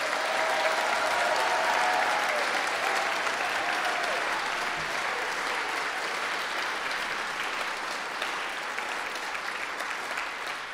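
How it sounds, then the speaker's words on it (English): Audience applause at an annual mayor's arts awards ceremony, a large crowd clapping loudly and continuously for over ten seconds, steady throughout and easing only slightly toward the end. "can we give them a big round of applause"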